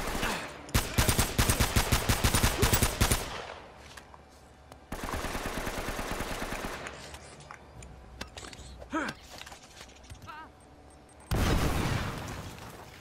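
Uncharted: Drake's Fortune combat with loud rapid gunfire bursts, grenade blasts and an exploding barrel, heavy automatic fire early, then sustained rumbling blast noise and another loud burst near the end, with a voice briefly audible.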